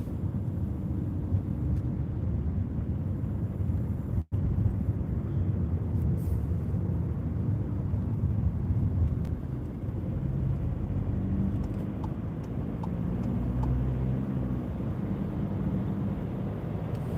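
Road traffic heard from inside a car while driving to work in Berkshire: a continuous low rumble of tyres and engine, fairly quiet and unbroken apart from one sharp click.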